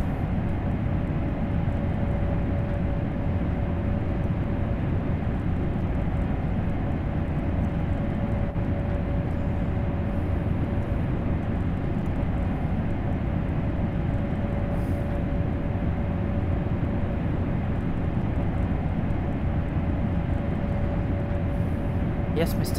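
A train runs in Train Sim World with a loud, steady, unbroken rumble and a constant mechanical whine throughout.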